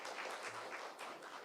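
A church congregation at a Sunday afternoon service in Suncheon applauds steadily, a dense, even wash of clapping filling the short moment without pause.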